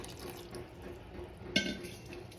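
Water runs steadily into a bowl of strawberries to soak them, a soft continuous trickle with a brief louder splash partway through.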